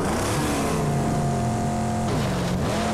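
A car engine in the Mad Max video game revs hard and steadily, its pitch holding and then dipping and climbing again at shifts, loud and continuous against a dense game background.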